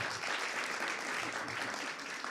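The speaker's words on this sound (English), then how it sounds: "we'd love to give them a great round of applause when I introduce them" Steady audience applause at a storytelling slam event, dense and even as a judge is welcomed, heard at moderate distance in a room.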